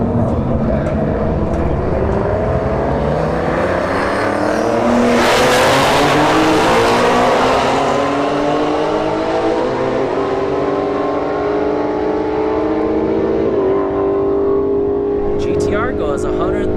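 A Ford Mustang S550 and a Nissan GT-R launch side by side at a drag strip, loud engines roaring and rising through the gears as they pull away into the distance while an announcer talks over them.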